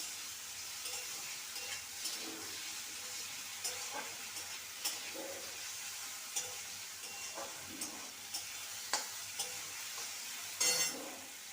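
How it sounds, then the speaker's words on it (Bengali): Potatoes frying in a pan with a little turmeric powder and salt, a quiet steady sizzle punctuated by periodic scrapes and light utensil knocks, with a louder clatter near the end and no talk. "দিয়ে দেবো সামান্য হলুদ গুঁড়ো আলুটাকে লাল করে ভেজে নেবো"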